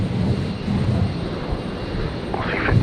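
Jet engine roar of a Virgin Boeing 737-700 taking off at Brisbane airport on a stormy night, a steady, loud low rumble throughout, with a brief higher-pitched swell near the end.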